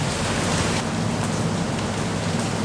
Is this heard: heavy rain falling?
yes